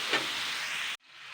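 Cauliflower fries in spice masala for a Bengali fish curry, giving a loud, close, dense sizzle that cuts off abruptly after about a second into a faint quieter hiss.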